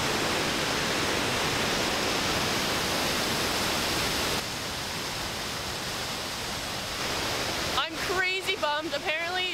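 Roaring rush of a waterfall at a cliff jumping spot in Oregon or Washington, a constant dense hiss for most of the stretch, then a voice breaks in over it near the end.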